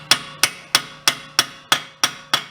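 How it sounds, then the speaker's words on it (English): A hammer gently taps an axle back through the CV joint of a 2007 VW Eos during an outer CV boot replacement, eight evenly spaced, sharp metallic strikes ringing close and clear with no talk. "Just gently tap it with a hammer"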